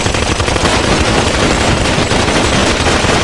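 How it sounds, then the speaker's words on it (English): Dense, continuous gunfire fills the whole stretch as a loud, unbroken wash of rapid shots with no pauses and no voices. "I meant to give you gunshots."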